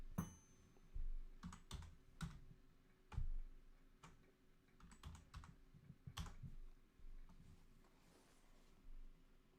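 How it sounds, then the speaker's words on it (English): Computer keyboard typing in a quiet room during a live stock-market show, with short bursts of clicking keystrokes and pauses between them, close and moderately loud with no talk. "just type it in"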